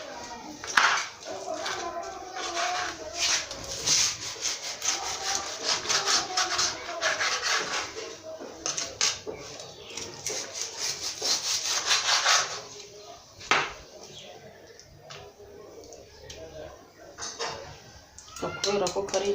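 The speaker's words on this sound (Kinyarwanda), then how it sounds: "Kubera ko kari igufa birangora kuza gukata ntonto." A knife saws through pork meat and bone, making a rough, repeated rasping scrape that runs almost continuously before easing off, with a few sharp knocks.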